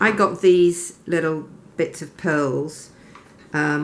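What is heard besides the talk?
No distinct noise like a dog, phone or traffic.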